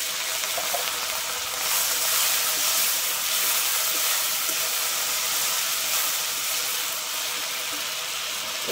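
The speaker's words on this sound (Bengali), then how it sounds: "এরপরে আমি একটু বাটি ধুয়ে জল দিয়ে দিচ্ছি।" Water from a rinsed bowl pours into a hot pan of lightly fried cumin for a Bengali eggplant, bori and parshe fish curry, giving a loud steady steaming hiss and sizzle that continues without talk.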